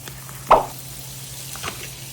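Butter drops into a hot pan of pasta sauce with one brief, close sizzle and splatter, then a quieter soft knock against a low background hum.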